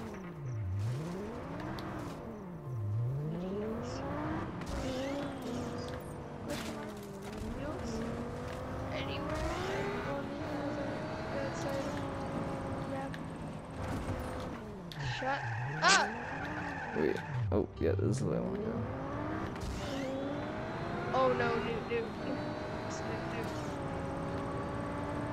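A stolen car in the video game Just Cause 3 races with a revving engine that swoops up and down through gear changes, broken by loud tire squeals and skids, with a voice talking over it.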